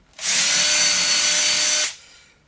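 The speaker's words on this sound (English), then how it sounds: "you're kind of just using this bit as a rasp a little bit." A power drill spins a bit against a 2x4 used like a rasp: one loud, close, continuous grinding whir lasting under two seconds before winding down.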